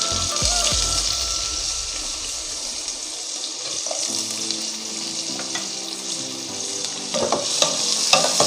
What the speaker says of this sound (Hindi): ऑयल गर्म हो चुका है, इसमें हम प्याज शामिल करेंगे।